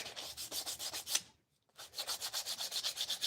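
Coarse 80-grit sandpaper rubs back and forth over wood in a steady rhythmic scrubbing, close and fairly loud, pausing briefly for a second before the strokes resume, with no talking.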